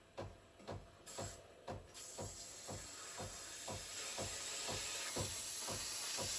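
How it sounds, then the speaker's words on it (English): Steam wand of a Breville Barista Pro BES878BTR espresso machine, faint rhythmic pump pulses giving way after about two seconds to a strong, steady, close hiss of steam that grows louder and continues alone. "Nice strong steam."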